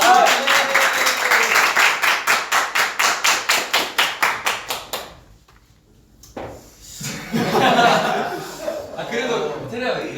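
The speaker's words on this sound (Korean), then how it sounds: "박수 한번 쳐주시죠." A burst of quick, rhythmic clapping from a small group during a K-pop group's livestream lasts several seconds, stops abruptly, then chatter and chuckling follow.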